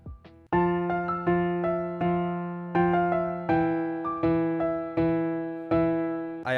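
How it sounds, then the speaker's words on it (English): A soft piano layer from the acoustic piano section of the Expand plugin in FL Studio plays gentle repeated chords with short decays, close and clean, with no voice over it. "I opened up Expand and I changed the piano to this piano soft layer under the acoustic piano section."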